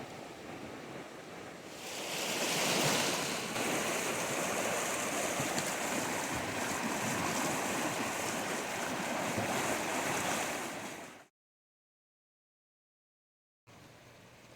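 Loud, steady rush of monsoon floodwater flowing over the bank of a desert wash, roaring continuously for about eleven seconds, then cutting out to silence before resuming faintly at the end.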